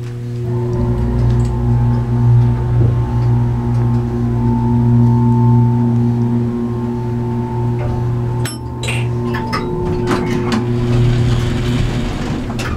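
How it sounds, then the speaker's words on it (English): A 2014 Pincus hydraulic elevator motor in an office building runs steadily with a loud, constant hum and drone, joined by brief clicks and rattles near the end. "we're gonna start the motor with the doors closed"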